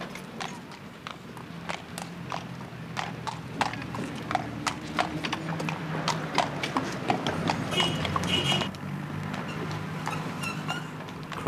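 Working horses' hooves clip-clop steadily on a Dublin street crossing Angel Street, close and rhythmic, with the low rumble of surrounding traffic underneath.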